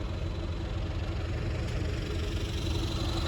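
A John Deere tractor engine idles steadily nearby, a low, even rumble with a faint knocking pulse and no voices.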